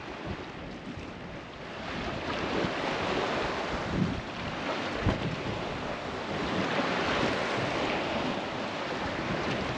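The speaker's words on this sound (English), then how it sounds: "the wave hitting the rocks like a beach" Waves washing against rocks on a Florida Keys island shore, a continuous close surf roar with surges and wind buffeting the microphone, no talking.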